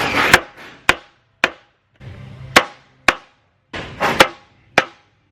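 A hammer strikes a steel punch through metal siding on a garage build: nine sharp metallic hits in loose groups, close and loud, with brief scraping and rustling between blows.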